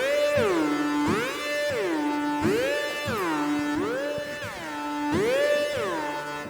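Synth on the Babylon preset with a strong glide effect and no EQ, a bright buzzy tone sweeping down and back up in repeating swoops about every second, steady and loud with no talk.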